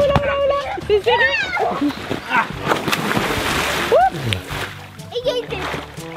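Pool water splashes and sloshes onto players during a giant board game played in a swimming pool, with loud bursts of splatter amid excited children's and adults' voices and shouts.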